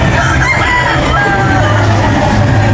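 At a gamefowl expo, a Sweater Boston rooster crows amid a loud, steady din of crowd noise and other fowl, the crowing only partly standing out.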